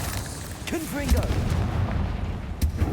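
A blasting spell explodes in the wizarding action game Hogwarts Legacy, a heavy rumbling boom and crackle sustained over a few seconds amid dense combat noise, with a voice calling out briefly at the start.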